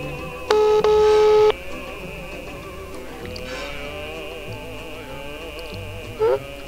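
A mobile phone call sounds as one steady, buzzing electronic tone lasting about a second, followed by a short blip near the end. Both play over continuous background game audio, with no one talking.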